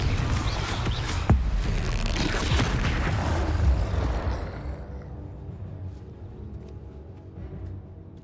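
A Confringo spell explosion in a Harry Potter video game, a loud booming burst with a sharp crack early on, then a rumble that fades into near silence over several seconds.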